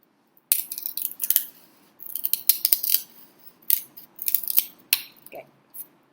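Scissors snipping the edges off a sheet of paper, a close series of short crisp cuts and rustles in an irregular rhythm.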